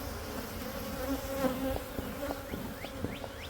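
Honeybees buzz steadily around an open hive box during a hive inspection, a close, continuous hum with individual insects whining past near the end.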